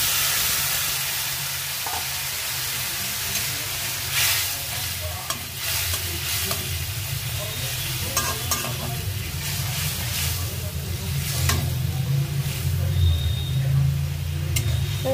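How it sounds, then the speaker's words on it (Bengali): Spiced pumpkin masala fries in a pan, and water is added to it. A steady, loud sizzle and bubbling runs throughout with occasional sharp stirring clicks. "এবার আমরা এখানে পরিমাণ মতো জল দিয়ে দেবো।"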